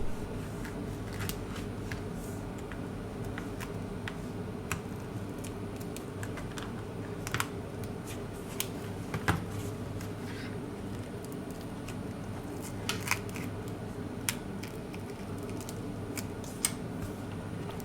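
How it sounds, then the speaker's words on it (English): A plastic triangle opening tool pries at the adhesive under the back cover of a Huawei Honor 10 phone, giving faint, scattered clicks and light scraping over a quiet, steady background, with no talk. "To loosen the adhesive, we use a plastic triangle opening tool."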